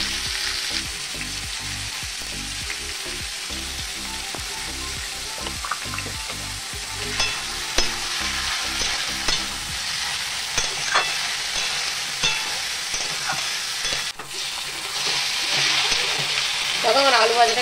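Potatoes fry in plenty of hot oil in a home kitchen, giving a continuous close sizzle. Clattering stirring strokes come through at first, then the crackle carries on alone.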